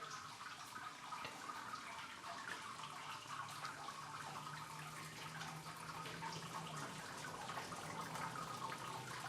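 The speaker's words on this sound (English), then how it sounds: "We are sparging away." Water runs steadily through the malt pipe of a Brewtools system while beer is sparged, a continuous close splashing wash with a faint low hum rising in the background partway through.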